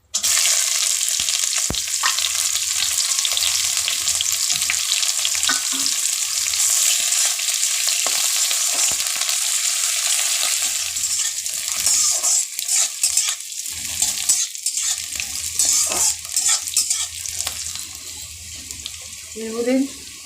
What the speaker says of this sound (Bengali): এবার একটু ভেজে নেব। কুচনো পেঁয়াজটা দিয়ে দিলাম